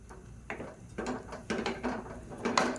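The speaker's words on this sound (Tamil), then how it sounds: "குக்கரை மூடி வச்சிடலாம்." A pressure cooker lid is closed and locked on a pot of curry, a short series of metallic clicks and ratcheting clunks spaced about half a second apart, close and clear with no speech.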